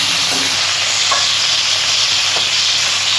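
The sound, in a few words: fish frying lightly in a pan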